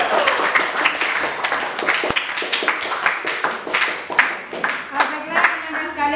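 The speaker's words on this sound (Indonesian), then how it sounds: "kasih tepuk tangan." Classmates clap after a group presentation in a high school class, a loose crowd of distinct, sharp handclaps close by in irregular bursts, with voices talking underneath.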